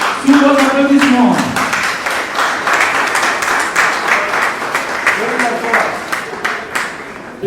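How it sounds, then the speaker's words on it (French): A crowd at a civil wedding ceremony in Brazzaville breaks into steady applause that keeps going, with a voice speaking over the clapping at the start. "Sous vos applaudissements."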